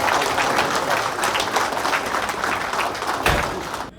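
Applause from the crowd at a Telugu Desam Party 40th anniversary celebration held by NRIs in Dallas, a steady dense wash of clapping filling the hall for about four seconds, with a slight swell near the end.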